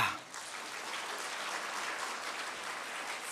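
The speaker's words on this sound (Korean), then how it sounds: "우리 큰 박수로 맞이하겠습니다" Audience applause at a church revival meeting welcoming the pastor to the stage, a broad sustained clapping from a crowd that starts at once and holds steady to the end, with no talk over it.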